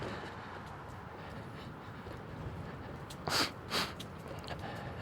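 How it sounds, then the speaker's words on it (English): Two quick, close sniffles from a rider on a Class 1 e-bike, rising over faint steady wind and road noise. "sniffling all over"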